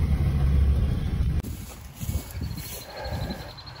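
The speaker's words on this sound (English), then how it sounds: "That's a Bobcat." Diesel engine of a Bobcat skid steer loader idling at a scrapyard job site, a steady low rumble that drops in level partway through and continues with light clatter and faint background noise.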